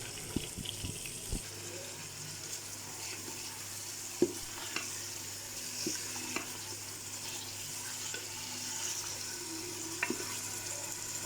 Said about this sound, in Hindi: पेस्ट मैंने शामिल कर दिया है। मैं इसे अच्छी तरह से मिक्स करूँगी मीडियम फ्लेम पे।